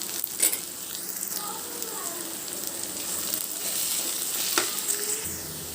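Dwarf copper leaf (ponnaganti) greens stir-fry in a pan with a dense, close crackling sizzle, punctuated by a few sharp stirring clinks and scrapes, no voices.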